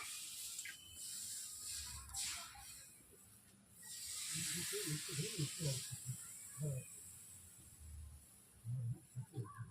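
Fish sizzle as they are slid into hot oil, a faint, steady frying hiss with soft bursts, while someone speaks quietly over the cooking.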